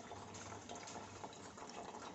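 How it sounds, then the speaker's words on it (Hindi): Water pours steadily from the outlet of an Aquaguard Amaze RO UV purifier into a container, a continuous close splashing flow with no talk. "इस स्पीड से गिर रहा पानी,"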